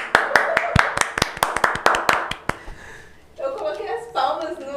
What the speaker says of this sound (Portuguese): Tem que ter as palmas no final.